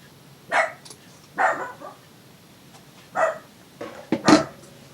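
A dog barks indoors in five separate sharp barks spaced about a second apart, fairly close, with the last two coming in quick succession.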